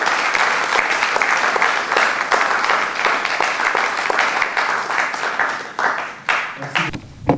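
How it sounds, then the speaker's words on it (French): An audience at a ceremony presenting traditional medicine products, incense, perfumes and soaps claps in sustained, loud applause that thins out toward the end, with a voice briefly audible as it fades. "Maître futur Sacré-Cœur Waka, que je vous demande une fois de plus d'applaudir"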